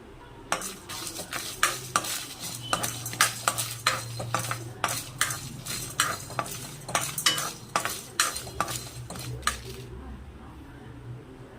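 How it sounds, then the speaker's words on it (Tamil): Coriander seeds, dried red chilies and garlic cloves dry roasting in a pan, stirred with a utensil that gives sharp repeated scrapes and clinks against the metal over a faint sizzle, steady and close. "ஸோ இது நல்லா வறுத்து எடுத்துக்கிடுவோம்."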